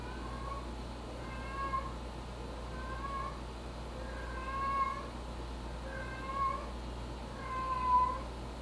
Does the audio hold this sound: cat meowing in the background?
yes